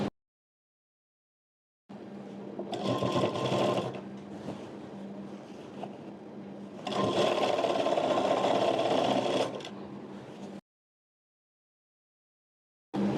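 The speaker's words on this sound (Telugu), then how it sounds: "ఇప్పుడు ఈ చివరి ఎడ్జెస్లో ఒక 1/2 ఇంచ్ ఖర్చుతో ఒక స్టిచ్ వేసుకుందాం." A sewing machine stitches along the edge of a lehenga with a half-inch seam allowance, sounding in two distinct running bursts of whirring, rhythmic needle clatter separated by a softer, slower stretch, with silence before and after.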